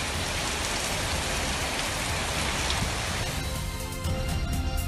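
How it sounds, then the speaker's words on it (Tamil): Heavy rain pours down without a break, a dense, loud, steady hiss of drops hitting surfaces, with no voices or other sounds above it. "ஒரு மணி நேரத்திற்கு மேலாக கனமழை பெய்து வருகிறது"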